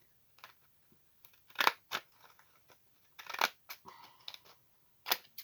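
Scissors trimming paper for a junk journal, heard as a series of close, crisp snips in irregular bursts against a quiet background.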